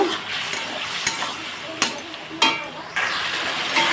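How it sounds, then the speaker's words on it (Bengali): Fish curry spices with turmeric and a little water are sautéed in a pan, heard as scattered spoon scrapes and metallic clinks over a light sizzle that swells toward the end; no speech. "এখন এটাকে একটু ভালোভাবে কষিয়ে নেব"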